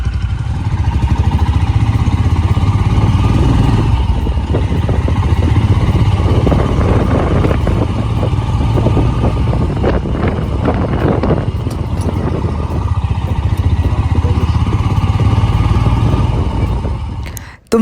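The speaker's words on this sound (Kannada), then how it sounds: "ತುಂಬ ದಿನಗಳ ನಂತರ ನಾವು ಈ ಥರ ಬೈಕ್ ಟ್ರಿಪ್ ಹೋಗ್ತಾ ಇದ್ದೀವಿ." A motorcycle engine drones steadily on a highway ride from Bangalore to Chikkamagaluru, loud and continuous with rushing wind, dropping away abruptly at the very end.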